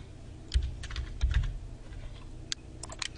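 A short burst of computer keyboard typing, entering a seed product code into DuPont Pioneer's FIT Studio software, with clustered key taps, a brief pause, then a few more quick clicks, close and clear.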